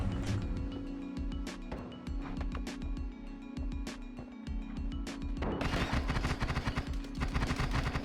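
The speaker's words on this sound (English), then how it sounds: "Why are you shooting rats?" Gunfire aimed at rats in the game Noita: a string of sharp, close shots and crackling impacts in uneven bursts over a steady hum, growing denser and louder toward the end.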